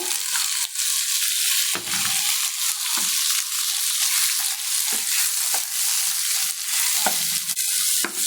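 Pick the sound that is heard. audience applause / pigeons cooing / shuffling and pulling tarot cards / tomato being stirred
tomato being stirred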